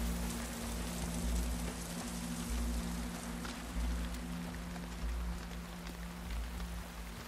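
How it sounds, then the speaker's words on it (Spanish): Steady rain falls in The Last of Us Part II on an island, a continuous even patter with a low hum beneath, with no voices. "Que llueve mucho aquí, ¿eh?"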